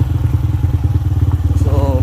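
A motorcycle engine idles close by with a steady low rapid throb while the bike is moved, and a brief rising tone near the end.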